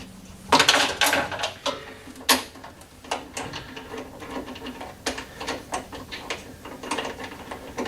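Close clicking and metallic rattling as a wing nut is threaded onto a lower handle bolt of a P1PE P4600SP lawn mower, irregular small taps and scrapes with no speech.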